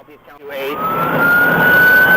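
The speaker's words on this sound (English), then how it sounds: "When Deputy McGuigan activated his lights and sirens, the driver made one thing clear." A police siren winds up from near silence into a loud, steady wail, close by, with engine noise underneath.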